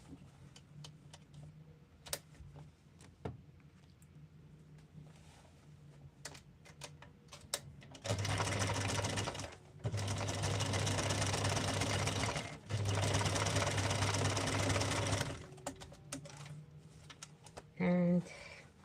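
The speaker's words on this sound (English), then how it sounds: "So I'm just going to sew it a little bit deeper in." A sewing machine stitches quilt pieces in three loud sustained bursts separated by short pauses, with scattered clicks and handling taps before and after and a brief final burst at the end.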